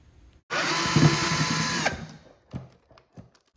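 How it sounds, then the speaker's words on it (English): A power driver runs in one steady whine of about a second and a half, backing a screw out of a Tennis Tutor Model 2 ball machine. A few light clicks and taps follow at close range, with no talking. "we'll remove 4 screws in a similar position as well"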